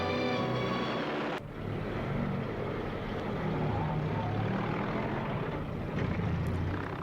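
WWII fighter and bomber aircraft engines drone continuously, a loud rumbling propeller roar that holds steady throughout with brief dips.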